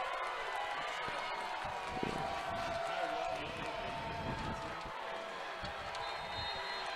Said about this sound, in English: Crowd getting into it. I mean, this is the loudest we've heard it all year long.